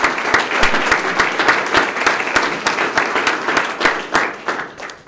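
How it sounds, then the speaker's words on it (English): An audience at a Sarasota police swearing-in ceremony applauds steadily and loudly, a dense stream of close individual claps that thins slightly toward the end. "let's give both of them a round of applause."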